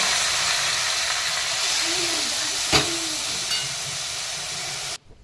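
Tempering crackles in a kadai for brinjal palya at a farm home: a steady, loud sizzling hiss runs throughout, with one sharp clack midway and a faint knock near the end before it cuts off.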